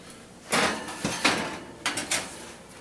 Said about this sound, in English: Now when you're going to put it in the oven, you're going to want to put it on the bottom shelf.